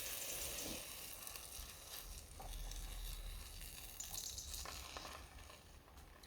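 Halloumi slices frying in a pan on a camping stove outdoors, a steady close crackling sizzle with faint wind rumble and small pops, no talk.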